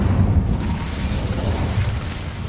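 Casting the Incendio fire spell in Hogwarts Legacy gives off a heavy, roaring burst of flame. The low rumbling whoosh is loud and close, holding steady for a couple of seconds before easing off slightly.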